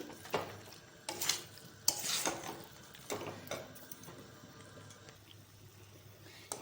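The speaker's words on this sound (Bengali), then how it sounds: "নাড়াচাড়া করে দিই" Fried chicken pieces are stirred into a chili chicken gravy in a pan, making repeated scraping spoon strokes against the metal over a faint, steady sizzle, close up with no talking.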